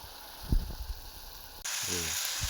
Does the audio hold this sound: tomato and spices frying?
yes